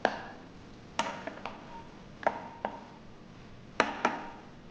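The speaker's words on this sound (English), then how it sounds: "And now let the cumin seeds pop" Cumin seeds popping in hot oil for paneer bhurji make sharp, isolated cracks, about eight of them scattered irregularly over a quiet background, clear and close.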